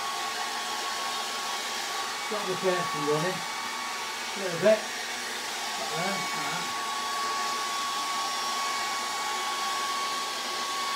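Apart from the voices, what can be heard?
hair dryer blowing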